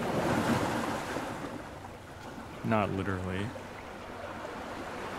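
Ocean waves wash and rush steadily in the background, a broad surf hiss under a brief spoken line.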